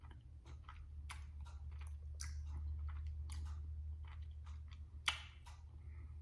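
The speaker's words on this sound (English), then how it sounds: "or just sucking the honey out of the wax, you can chew on it like gum." Honeycomb wax from a beehive is chewed right at the microphone, with irregular wet clicks and crunchy snaps over a low steady hum, one sharper crunch near the end.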